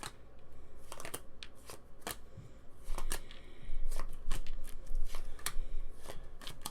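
Pandemic Legacy Season 2 board game cards shuffled by hand at a table, a run of sharp close riffles and snaps in irregular bursts that grows busier toward the end.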